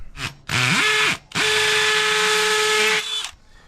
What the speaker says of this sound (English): get a little pilot hole, that way I've got a place for my bit to start